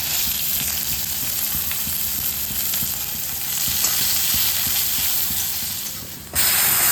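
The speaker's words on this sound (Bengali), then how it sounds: "তারপর ডালটাকে ফোড়ন দেব।" Spices sizzling in hot oil to temper dal, a loud continuous close frying hiss with stirring scrapes, briefly dipping before a sharper burst near the end.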